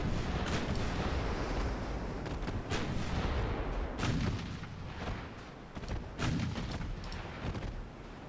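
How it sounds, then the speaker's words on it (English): In the naval game Ultimate Admiral Dreadnoughts, 5-inch guns fire in a string of heavy booms at irregular intervals, some deep and some sharper, over a steady rumbling background. "5-inch guns take care of it now."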